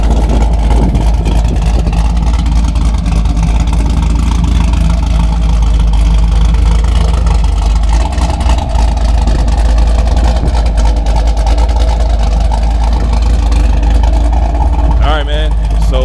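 A car engine runs steadily and loudly at an outdoor car show, a continuous low drone filling the scene with voices and music faintly underneath.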